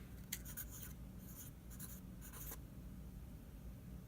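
A Sharpie marker squeaks across a surface in several short, quick strokes, a cluster of close, quiet scratches in the first two and a half seconds, then faint room quiet.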